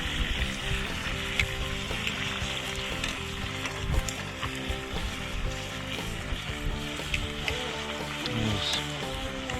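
A steak fries in an iron skillet over a campfire just after being flipped, giving a loud, dense, continuous sizzle with crackling pops throughout and no voices.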